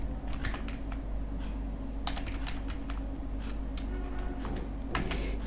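Fast keystrokes on a computer keyboard while typing text into a Canva design, irregular clicks in short bursts over a steady low hum, close and fairly quiet, with no talking.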